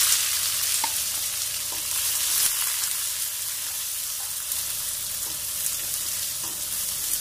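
Onion, garlic and ginger fry in oil for an onion coconut chutney, a continuous even sizzle with faint periodic scrapes of a spoon stirring, close and unaccompanied by speech.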